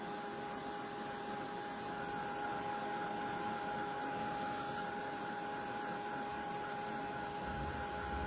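A craft heat dryer, moved around while drying a watercolor painting, blows steadily throughout: a constant whirring hiss with a faint tonal whine, close and continuous with no talking.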